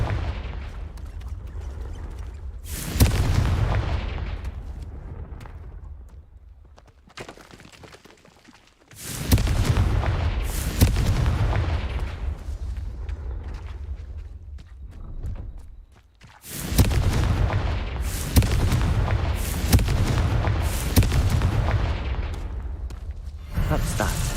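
Confringo blasting spells in Hogwarts Legacy burst as a series of heavy, booming explosions with rumbling tails, recurring every few seconds over continuous combat noise.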